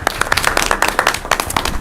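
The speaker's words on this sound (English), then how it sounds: "how about a round of applause for those scholars?" A crowd at a school district board of education meeting claps steadily, a dense patter of many hands applauding at close range.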